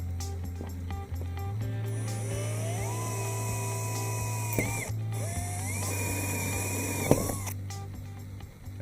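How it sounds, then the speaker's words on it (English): A power drill driving a 32–34 mm hole saw cuts a vertical hole through plastic, whining steadily for several seconds with rising and falling pitch as the load changes, fairly faint and close, with no voices. "Drill a vertical hole with a 32 to 34mm hole saw."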